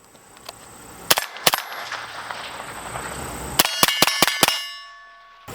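5.56 rounds fired through a suppressor strike a steel target outdoors, a sharp ringing clang after each shot: two spaced hits, then a quick string of about six, each ringing briefly.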